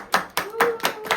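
Several hands clap together at a birthday celebration, about four crisp, close claps in a steady, quick rhythm with no other sounds around them.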